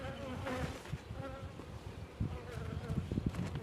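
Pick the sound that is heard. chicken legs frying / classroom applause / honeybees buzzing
honeybees buzzing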